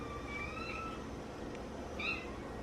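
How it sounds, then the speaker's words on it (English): A pet cat meows indoors, two drawn-out plaintive meows a moment apart, fairly faint over quiet room noise. "What are you meowing at?"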